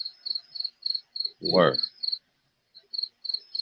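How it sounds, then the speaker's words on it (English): Crickets chirp in steady, evenly spaced high pulses behind a brief burst of nearby male speech. The chirping pauses for a moment and then resumes its regular rhythm. "You can make a beat with that cricket noise in the back too."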